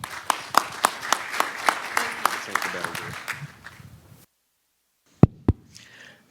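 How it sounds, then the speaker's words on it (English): A small crowd at a community meeting claps in a brief round of applause that fades out, followed by silence and two sharp knocks. "please give her a round of applause"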